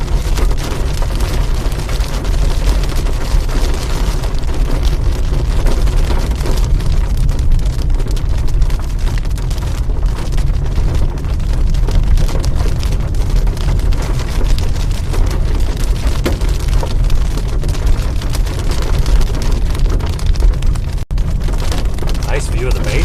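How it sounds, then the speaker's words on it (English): Big hailstones pound a storm chaser's car during a Texas storm, a dense, steady roar of impacts on the body and glass lasting throughout, loud and close. "Big hail."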